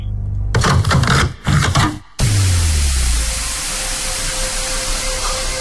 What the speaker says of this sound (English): The sacred sound is changing a filter on a washing machine